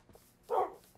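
A puppy barks once in Minecraft, a single short yip that stands out clearly against quiet game ambience.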